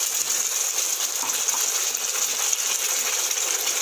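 Water from a rinsed blender jar is poured into a pan of crab pepper fry, giving a steady, even hiss that holds for about four seconds with no talk.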